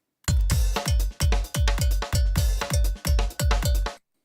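A sharp metallic percussion sample hit repeats in a steady pattern of about a dozen strikes, each reinforced by a deep thumping MIDI kick drum underneath.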